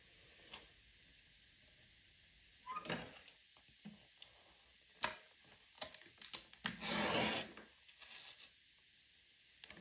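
Blade sliding and scraping across paper while framing a wedding scrapbook album page, quiet intermittent rubs and ticks with one longer, louder drawn stroke near the end, no voices.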